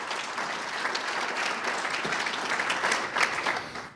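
Audience applause at a Jaycees DSA awards ceremony, a steady dense clapping from a room full of people that holds for about four seconds and swells slightly near the end.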